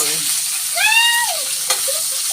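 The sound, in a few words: sautéing onion and garlic in a pan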